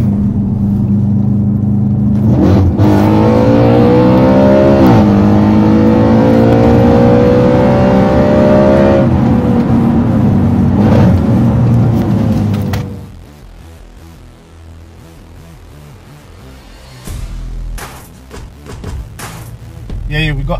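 An Audi RS4 with a RevoTech exhaust revs hard while driving, with a loud rising engine roar that climbs and sweeps in pitch, then drops to a lower rumble as people talk inside the car.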